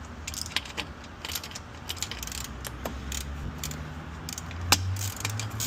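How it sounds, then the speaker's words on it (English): Ratchet clicks and small metallic clinks while 10mm bolts come off the underside of a 2023+ Honda Civic Type R, sounding as close, scattered bursts of ratcheting with a sharper knock near the end. "removing these 10mm bolts on the bottom"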